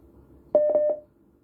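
Telephone keypad dialing, a clear loud burst of a few quick tone presses run together for about half a second over faint background hum, with no talk.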